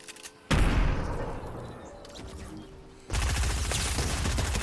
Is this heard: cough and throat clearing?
no